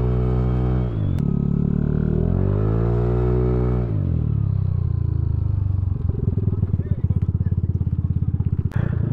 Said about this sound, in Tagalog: Saka sumisigaw yung motor.